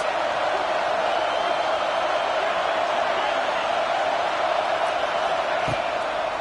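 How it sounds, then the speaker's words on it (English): The home crowd at an Ohio State vs Georgia college football game keeps up a loud, unbroken roar, a dense wall of voices that holds steady throughout. "how nice is it to have the home crowd going absolutely bananas"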